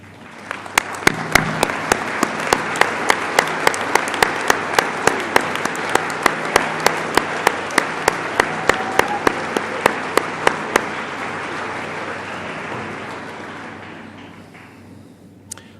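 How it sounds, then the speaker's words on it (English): A graduation audience at Southeast Community College's fall ceremony in Milford applauds candidates standing in the hall, a dense, steady wash of clapping that lasts about eleven seconds before tapering off. "let's show our appreciation with a round of applause."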